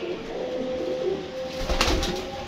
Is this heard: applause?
no